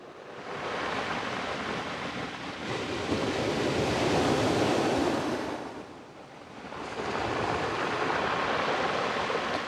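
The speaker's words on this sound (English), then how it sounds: "Hear the sound when the waves pull off the pebbles. Yeah, the receding water makes a crackling noise." Sea waves wash in and drag back over a pebble beach on the Scottish coast near Fort George, a broad, steady rushing that swells and eases twice, close by with no voices.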